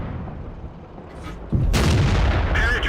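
Tank gun firing at an M6 in World of Tanks: a heavy, close boom bursts out of a low engine rumble, followed by a sustained roaring blast and rattling debris.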